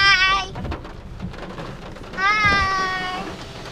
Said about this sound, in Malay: Sekarang hujan.